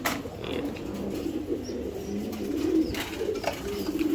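Giribaz pigeons in a loft give low, steady cooing that runs through the whole stretch, close and continuous with a soft background rustle and no talk.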